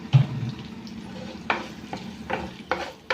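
A tempering of spices with a pinch of asafoetida frying in a pan for cabbage chutney, giving a soft steady sizzle broken by a few sharp scraping stirs, close and fairly quiet.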